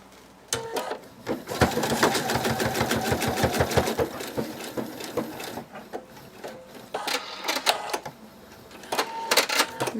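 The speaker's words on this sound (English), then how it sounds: "I'll just fold them in half right on the dart and then sew right on the line." A sewing machine stitches darts on a bunny plush head in rapid mechanical bursts, running in quick rhythmic runs with short pauses and a few starts and stops, close and fairly loud.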